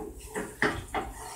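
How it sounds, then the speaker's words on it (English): Macaroni and butter stirred in a pot, giving three soft scraping, clattering strokes about a third of a second apart, close and fairly quiet with no talking. "you'll want to stir the butter in because it helps to melt the butter faster"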